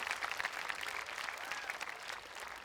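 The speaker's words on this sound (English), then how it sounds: "Please give your applause to these outstanding members of the class of 2015" A high school graduation crowd claps steadily for the whole stretch, a dense even patter of many hands with a few brighter whistles cutting through.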